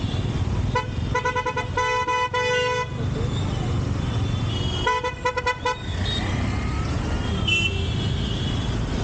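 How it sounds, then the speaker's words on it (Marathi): A car horn honks in a long stuttering burst, then again more briefly, over steady traffic rumble on a Mumbai street. "हॉर्न मारताना पण टेन्शन येतं"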